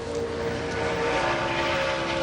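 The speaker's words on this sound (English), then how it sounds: "See, they are screaming, these engines." NASCAR Sprint Cup stock car engines scream at Michigan during qualifying, a loud sustained high-pitched roar with a steady whine and no break, with no talking over it.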